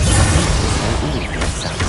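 Spell impacts from Bombarda and Confringo in the Hogwarts Legacy video game, a loud, dense blast that rumbles and crackles through two seconds, with a brief whooshing swell near the end.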